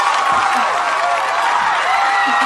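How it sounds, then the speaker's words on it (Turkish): An audience applauds and cheers at a comedy show, a dense steady wash of clapping and crowd noise filling the whole stretch with scattered whoops on top. "Lütfen hep birlikte alkışlayalım"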